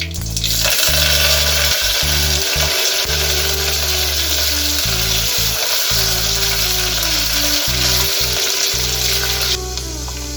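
Garlic and curry leaves fry in hot oil with loud, continuous close sizzling and bubbling, while a low hum runs underneath and briefly cuts out in places.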